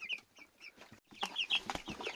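Several chickens cluck close by in short, repeated bursts, with soft scuffling between calls.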